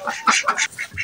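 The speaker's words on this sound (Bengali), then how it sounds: "সকালবেলা আজকে আমার হাঁসগুলো" Egg-laying ducks let out of their cage in the morning, several loud, close quacks in a quick, uneven burst.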